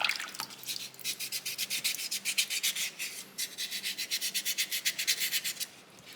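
Sandpaper rubs back and forth across a small soapstone owl carving in steady, rhythmic strokes, close and fairly quiet, with a short pause midway before the scrubbing resumes.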